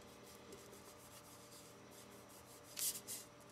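Rubbing down a decal on a 1:350 Polar Lights USS Enterprise Refit model kit gives a soft, continuous close-up rubbing, ending in two brief louder scrapes.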